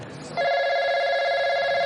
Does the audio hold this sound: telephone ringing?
yes